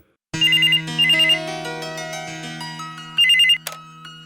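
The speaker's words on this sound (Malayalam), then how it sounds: "മോഹനേട്ടാ, ഫോൺ." A telephone rings in a domestic setting, with a bright electronic ringtone in repeated trilling bursts over a sustained tone, loud and close, with no voices.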